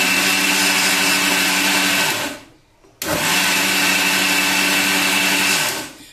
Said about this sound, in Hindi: हमने दो बार मिक्सर को बंद करके चालू करके बेटर तैयार किया है